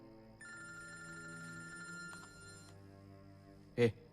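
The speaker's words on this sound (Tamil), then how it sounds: "ஆர்த்தி தான் கால் பண்ணிருக்கா." A telephone rings with a steady electronic tone in a scene from the Tamil film Pizza, sounding for about two seconds before stopping, then a short loud burst follows near the end.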